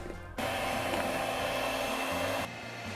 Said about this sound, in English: I'm just going to keep blending until it changes consistency a little bit.